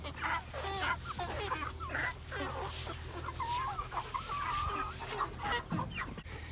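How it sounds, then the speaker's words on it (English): A free-range rooster crows and clucks close by on a farm, its calls repeating over a busy background of other chickens clucking and shifting around. "Just want to show you guys this rooster here."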